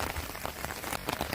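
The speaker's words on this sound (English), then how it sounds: "It has been raining since morning." Rain pours steadily onto the ground at a Lakshadweep island resort, a dense, close hiss of drops with no voices.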